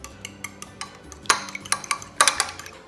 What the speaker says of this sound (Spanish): Y nos vamos a ayudar de un tenedor para batirlo muy bien.